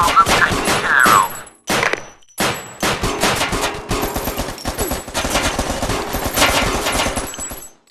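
Enemies fire guns in the Crisis Brigade 2 video game, loud rapid bursts of automatic gunfire in repeated volleys with brief pauses between them, close and dominant with no talking.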